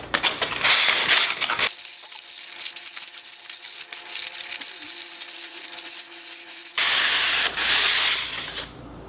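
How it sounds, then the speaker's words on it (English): Coarse-grit sandpaper rasps across a vintage VW roof rack in two loud bursts of rapid scrubbing strokes, separated by a few seconds of near quiet with a low background hum. "So I'm just gonna go over it with a tough grit sandpaper first."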